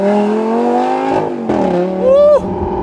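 A Lamborghini Gallardo LP570-4 Superleggera engine accelerates hard at full throttle, its loud, close, rising roar briefly dipping at gear changes before climbing again into a higher-pitched scream.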